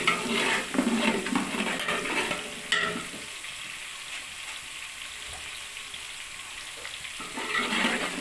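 Garlic ginger paste fries in a pot with a steady broadband sizzle, loudest at the start and again near the end, broken by a few brief stirring scrapes.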